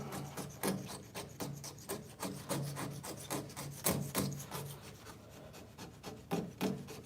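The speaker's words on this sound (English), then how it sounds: "Scrape some of this buildup off of this plate." Buildup is scraped off a knife grinding plate in a steady series of rasping strokes, each a short scratchy rub repeating at an even, brisk pace, close and alone with no talk.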